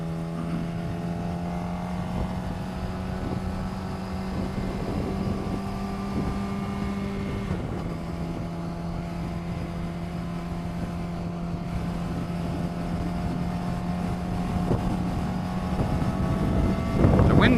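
A car cruises and gains speed toward highway pace on a windy day, a steady engine drone with sustained tonal hum and rising road and wind noise that grows slightly louder toward the end.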